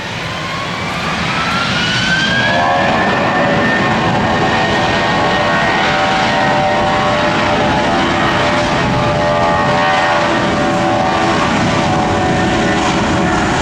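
A Spirit Airlines jet roars past at an airport, its engines loud and close with a rising whine settling into a sustained, heavy rumble that fills the whole stretch.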